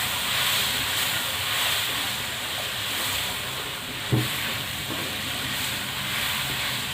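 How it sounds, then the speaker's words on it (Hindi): Sliced okra sizzles steadily in hot oil with onion and spices, a continuous loud frying hiss that holds evenly throughout with a brief clatter partway. "इनको प्याज इस मसाले के अंदर, ऑयल के अंदर अच्छी तरह से फ्राई करेंगे।"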